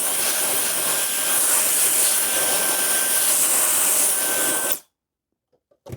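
A Wolfbox MF50 mini air blower duster blowing hard, a loud, steady close rushing whoosh with a faint whine that cuts off abruptly, followed by near silence and a couple of small clicks.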